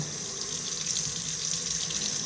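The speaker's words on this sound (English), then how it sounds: "The water always has to be on" Water running steadily from a kitchen faucet into a sink, a constant close hiss and splash with no talking.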